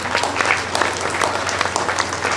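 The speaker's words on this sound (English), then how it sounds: "please clap your hands again for every of the speakers" Audience at a career fair symposium clapping for the speakers, a continuous, fairly loud round of applause from a roomful of people, with no speech over it.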